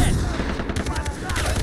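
Rapid bursts of gunfire in Far Cry 3 crackle in quick succession, loud and close, with a voice briefly audible beneath the shots.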